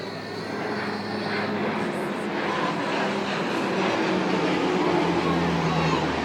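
An airplane drones overhead in a broad, steady roar that grows slightly louder over several seconds, filling the background at an outdoor whale show.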